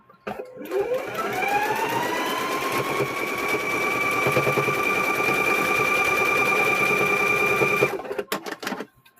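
A sewing machine runs steadily as it stitches fabric for homemade door stops. It spins up with a rising whine, holds a fast, even hum for several seconds, then stops with a few clicks.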